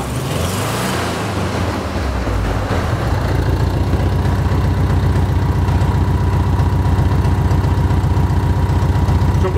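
A Mexican-built VW Beetle with an overheating problem has its air-cooled engine revved and then held at a steady, loud, pulsing run with throttle applied, close and continuous, with no talk.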